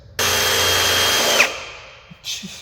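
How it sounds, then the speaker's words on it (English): A power drill whines loudly for about a second drilling metal with a dull bit, a steady high-pitched motor buzz that winds down, followed by a faint clunk. "I'm going to drill here and here."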